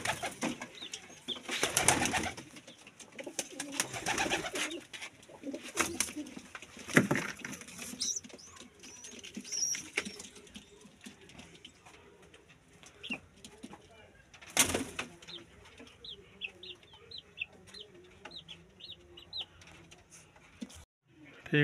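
Soft cooing and rustling flutters from breeding pigeons come in scattered bursts, close by, over a quiet background with occasional faint handling noises.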